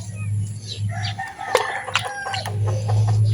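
Chickens cluck and crow close by among potted succulent plants, with irregular calls and a brief flutter of wings against a steady background hum.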